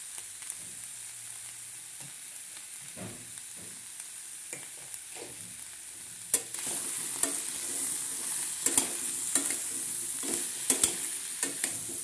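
Taro (mankochu) frying in a pan with turmeric and salt, a soft steady sizzle with intermittent scraping knocks of stirring that grow busier and louder in the second half; no talking.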